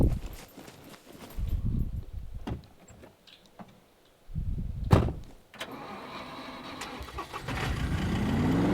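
Car driven into a player-built base in the survival game SCUM, with engine rumble rising and falling and low driving noise building toward the end, alone without speech.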